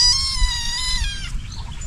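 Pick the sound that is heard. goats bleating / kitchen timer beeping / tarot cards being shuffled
goats bleating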